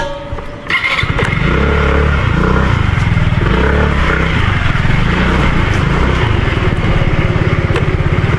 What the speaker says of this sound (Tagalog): Pasok natin guys ang motor.